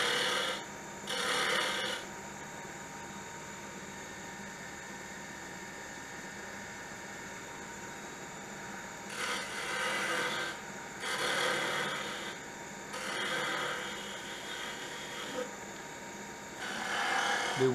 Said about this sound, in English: I do that with a round nose scraper.